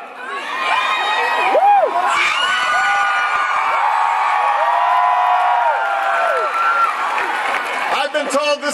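A huge rally crowd cheers and whoops continuously at a university campus event, loud and dense, with scattered shouts and voices rising over the roar throughout.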